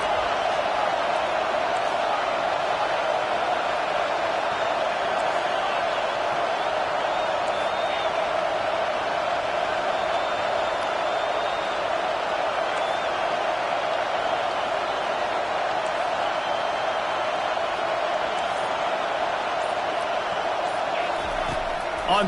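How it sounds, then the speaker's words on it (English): Home crowd in a football video game roars loudly and steadily throughout, a dense wall of cheering with no break or change in level. "how nice is it to have the home crowd going absolutely bananas?"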